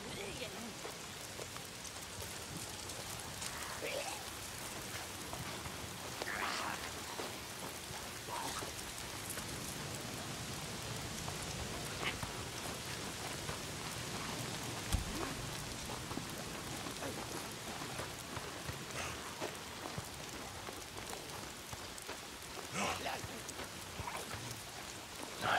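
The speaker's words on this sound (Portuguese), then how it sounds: "Tá sempre chovendo." Steady rain in the video game Days Gone, a dense continuous hiss of falling drops and splashes on surfaces that holds at an even level throughout, with faint rumbles and occasional sharper taps mixed in.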